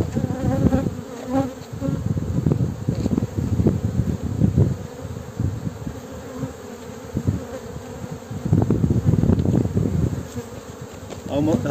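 Honeybees hum loudly around an opened hive during an inspection in late March 2022, the buzzing swelling and fading in close bursts as bees fly near.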